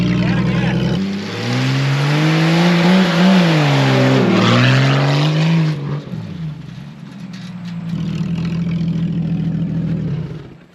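A Jeep labors up a dirt climb off-road, its engine revving hard and wavering in pitch as the wheels spin and fling dirt, then easing and rising again near the end; people talk over the din.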